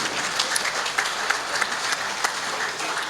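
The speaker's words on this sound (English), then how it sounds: "Please give him a round of applause" Clapping from an audience at a sports awards ceremony, a steady moderate patter of many hands with no voices over it.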